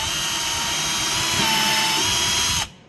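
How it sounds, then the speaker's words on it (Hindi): A cordless battery drill bores a hole in a 72V 30Ah pouch-cell EV battery pack, giving a steady, loud, close whine that holds for over two seconds before cutting off abruptly. "हमारे पास बैटरी वाली ही हम यूज कर रहे हैं ड्रिल"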